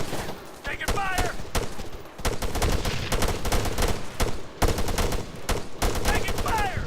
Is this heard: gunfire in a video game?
yes